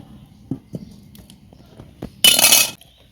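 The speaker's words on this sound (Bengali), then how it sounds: "চুলাটা ধরে গেছে এখন কড়াইটা তুলে দিলাম" A wok is set on a lit stove: a few light metallic taps and clinks, then a short loud scraping clatter near the end, all close against a quiet background.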